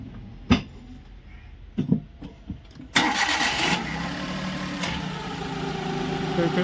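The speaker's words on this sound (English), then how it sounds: "start the vehicle." A car engine cranks and starts during a starter test with a battery tester, after a few scattered clicks and knocks, then settles into a steady idle that continues to the end.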